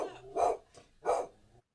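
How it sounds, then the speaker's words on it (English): A dog gives two short, sharp barks with a quieter yelp between them, heard indoors at moderate distance over a faint background hum. "hold on, dog's off."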